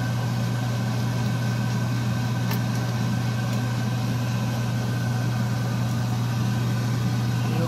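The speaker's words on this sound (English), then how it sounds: "turn on my exhaust fan" Exhaust fan running in a model-weathering workspace, a steady loud hum with a constant low drone and broadband whoosh, unchanging throughout, with no talking.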